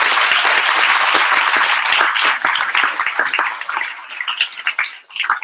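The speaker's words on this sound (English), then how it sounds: "Can we have one more round of applause for Jason, please?" A loud round of applause from an audience, dense close clapping that holds strong for a few seconds and then tapers off into scattered claps.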